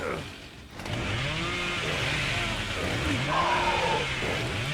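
The Cannibal's chainsaw in the game Dead by Daylight revs and snarls with rising and falling engine whines, steady and loud, mixed with game sounds and brief voices.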